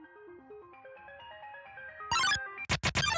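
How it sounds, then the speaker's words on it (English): Undertale's phone call ringtone plays as a short melodic chiptune jingle of stepping notes, then ends in a few loud, brash bursts of harsher electronic tones, with no talking over it. "Gotta like skip those phone calls because like Alpha's texting"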